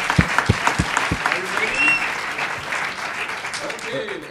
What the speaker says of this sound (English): Big round of applause from him as well